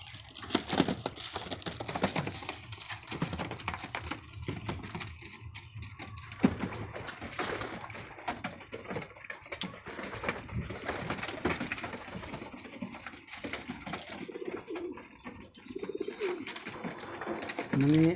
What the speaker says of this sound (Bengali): এই যে কিছু উপরেও কবুতর উঠতেছে ঘরটার বাইরে